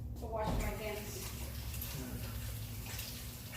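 Running water from a tap flows steadily for hand washing, a soft continuous splash under a person's talking.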